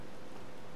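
Steady rain in The Legend of Zelda: Tears of the Kingdom, an even hiss of falling drops with no other sound in a short moment.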